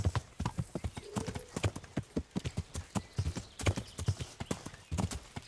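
Horse hooves clip-clop in a steady trotting rhythm in the video game Kingdom Come: Deliverance, crisp close hoofbeats with a brief whinny partway through, moderately quiet and without talk.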